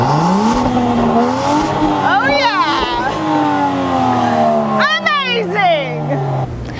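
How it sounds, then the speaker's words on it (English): A 395-horsepower Land Rover Defender 110 SUV in blacked-out exclusive edition revs hard nearby, its engine note climbing in sharp sweeps twice over a steady idle roar, while a man briefly cheers. "this is a large, luxury, sexy SUV with 395 horsepower. So how does it sound?"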